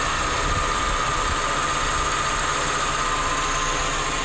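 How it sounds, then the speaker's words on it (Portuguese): Kia Sportage engine idling while running on hydrogen fed from a Batik 2.0 unit, a steady, continuous broadband hum with a constant tone and no speech over it. "O carro já está funcionando com hidrogênio, aspirando hidrogênio."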